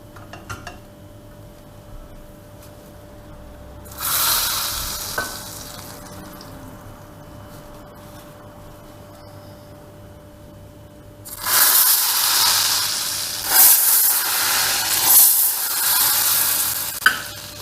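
Hot oil poured over a pot of tarhana soup, giving two strong bursts of loud hissing sizzle, the first brief and the second longer with stirring clatter, separated by a quiet stretch.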